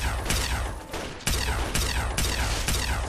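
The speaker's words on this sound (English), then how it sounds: "How many people are over here shooting at my face?" Enemy gunfire aimed at the player in Fallout 3, loud repeated bursts of shots with sharp impacts roughly every half second to second, continuous and close.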